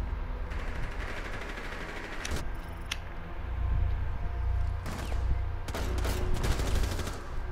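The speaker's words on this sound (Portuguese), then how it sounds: "deu três tiros no cara ainda pra não morrer" Bursts of rapid gunfire crackle in a video game, several quick volleys over a constant low rumble, with no talking.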